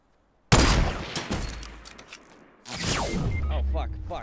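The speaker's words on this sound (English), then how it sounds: "he just sniped me" A sniper rifle shot in Fortnite cracks out loud and sudden, then trails into a rumbling echo. After a short lull, a second burst of noisy game action follows.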